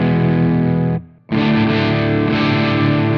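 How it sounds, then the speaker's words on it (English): Mesa Boogie Mark IV amplifier on the Rhythm 2 channel with the pull fat switch engaged, giving a thick, loud crunch-distorted guitar chord that rings, cuts off briefly, then a second sustained chord rings out. "Coupled with the pull fat switch, you get maximum crunch."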